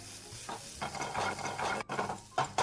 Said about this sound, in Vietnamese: Giờ chúng ta sẽ cho hai lọ nấm vào xào ha